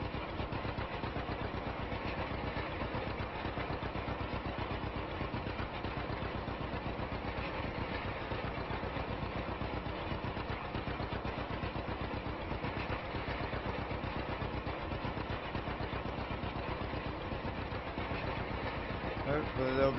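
A John Deere A tractor engine runs in Farming Simulator 25 while rolling wheat on a 1949 farm, a steady continuous mechanical drone throughout with a person talking over it.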